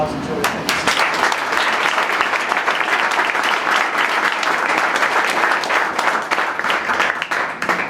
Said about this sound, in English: I hope you all give him a round of applause and Joe.